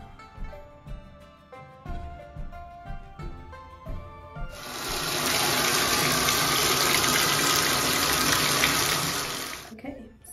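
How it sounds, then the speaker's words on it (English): Running water from a household shower, first faint under clattering and music-like background sounds, then a loud steady hiss starting mid-clip and continuing for several seconds before cutting off. "So I'm out of the shower."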